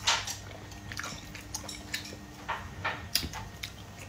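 Chewing on a tough, rubbery store-bought bundled sausage, with soft wet mastication and small clicking bites repeating at a steady rhythm, close and fairly quiet, with no talking.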